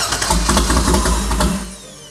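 An old four-cylinder LS1 racecar engine, destined for a junkyard jetboat, cranks and catches, running rough with uneven popping pulses for about a second and a half before fading out.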